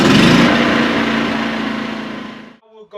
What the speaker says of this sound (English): Pull the choke out, make sure you're in gas, and you should be able to pull start it.